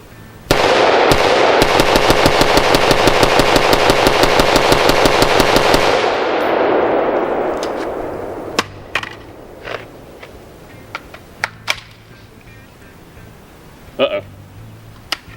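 An AR-15 rifle on an SLF 15 polymer lower receiver firing rapidly from a 40-round magazine outdoors, a loud fast string of shots lasting about five seconds before stopping short, followed by a few scattered distant shots and brief talk.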